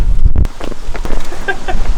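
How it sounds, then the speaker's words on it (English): Rain falls steadily outdoors with a close, hissy wash, buffeted by wind rumble on the microphone and a few heavier thumps early on. "It's raining, bro."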